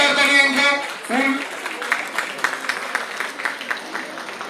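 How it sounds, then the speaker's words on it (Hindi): After a brief spoken line, the audience at an agricultural seminar breaks into steady applause, a moderately loud patter of many hands that continues to the end. "इनके लिए तालियां दे दीजिए"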